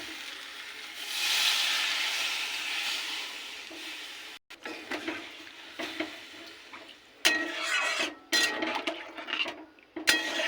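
Water rushes into a pan of fish curry with giant taro (mankochu) in a loud, steady pour, then settles into a quieter bubbling sizzle with clattering stirring and utensil knocks.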